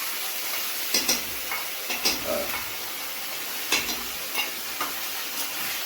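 Ginger garlic paste fries with chicken in a pan for a chicken kosha, a steady sizzle broken by intermittent stirring scrapes and clicks of a utensil against the pan, close and clear.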